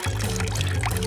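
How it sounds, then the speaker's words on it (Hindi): Water pours steadily onto garden plants in a short, continuous gush. "देखो, मैं पौधों में पानी डाल रहा हूँ।"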